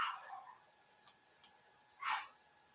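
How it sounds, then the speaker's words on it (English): A dog barks faintly in the distance, with two soft barks separated by a few light ticking sounds. "I gotta go help my dog. That motherfucker's going crazy."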